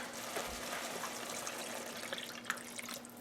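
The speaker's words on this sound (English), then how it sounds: "Add a can or two of water." Water runs and splashes into a cooking pan of potato pea curry, a soft continuous pour with a few small drips and splashes, fairly quiet.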